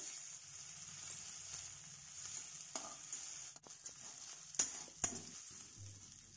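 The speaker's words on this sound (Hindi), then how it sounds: "इसमें हम डालेंगे अदरक लहसुन का पेस्ट इसको भी अच्छे से भूनेंगे" Ginger garlic paste fries with onions in a pan, a soft steady sizzle with occasional stirring clicks and scrapes, quiet and close.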